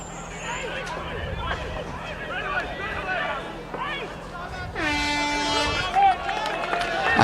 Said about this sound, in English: that's the sound of the quarter hooter, the end of the first quarter